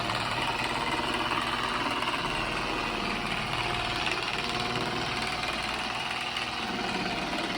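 An old paint-correction polishing machine runs steadily, a loud, continuous rough drone with a chugging, tractor-like engine rumble that holds level throughout.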